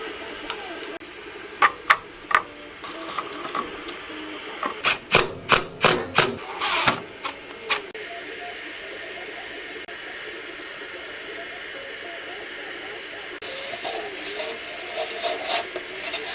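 A homemade M8 tap cut from a bolt is worked into a wooden base, producing a series of sharp, close knocks and creaks in bursts among quieter scraping and handling noise.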